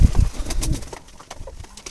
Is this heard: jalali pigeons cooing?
yes